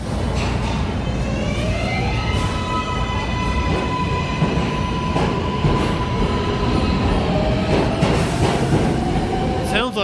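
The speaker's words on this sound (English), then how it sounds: "Sounds like a train's getting ready to come through." A train rumbles steadily through the whole stretch, loud and close, with long, drawn-out squealing tones from the wheels or rails riding over the dense noise and some talk mixed in.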